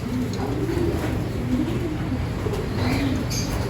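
Pigeons in a loft coo in soft, repeated low murmurs close by, a continuous gentle burble with faint background noise.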